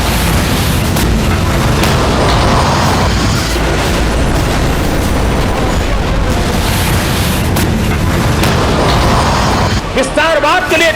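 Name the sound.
artillery cannons firing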